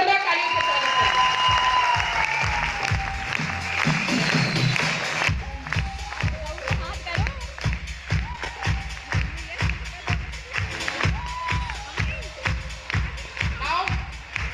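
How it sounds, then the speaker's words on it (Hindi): Audience applause at a direct-selling industry function as a speaker is welcomed on stage, steady rhythmic clapping that continues for several seconds, with background talk and music early on. "प्लीज इनका जोरदार तालियों से स्वागत करें।"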